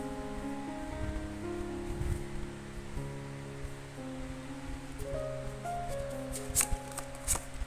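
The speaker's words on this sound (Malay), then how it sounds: "Saya akan buka semua kad dahulu." Tarot cards are laid out and flipped over on a table in a quiet room, soft sliding and papery flicks over several seconds with a few sharper snaps near the end.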